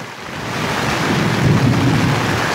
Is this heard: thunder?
yes